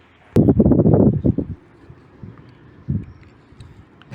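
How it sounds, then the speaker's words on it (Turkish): Wind gusting outdoors during a motorcycle quad mount install, a loud rush against the microphone for about a second followed by quieter, intermittent buffeting. "Güzel rüzgar esiyor."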